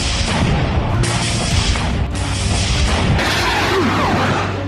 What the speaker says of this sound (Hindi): बम धमाके से पूरा का पूरा इलाका आग की भयंकर लपटों में घिर गया